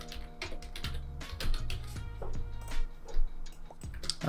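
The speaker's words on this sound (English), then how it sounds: "now we can type whatever we want into here" Keys clack quickly on a computer keyboard, a close, uneven run of crisp taps with brief pauses between bursts.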